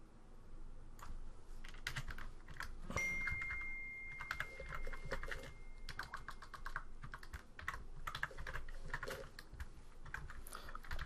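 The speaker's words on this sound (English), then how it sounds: "he can start typing his content" Steady quick tapping of keys on a computer keyboard, close and quiet, with a soft tone briefly ringing underneath.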